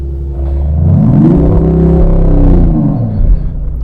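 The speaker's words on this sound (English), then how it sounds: "Fake engine sounds." Mercedes-AMG E 53 engine revving as synthesized sound played through the car's speakers, a loud steady drone that rises in pitch, holds, then falls back over a few seconds.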